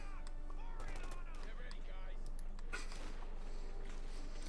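A 50 caliber machine gun in Company of Heroes 2, bursts of rapid gunfire crackling beneath a talking voice amid other battle noise.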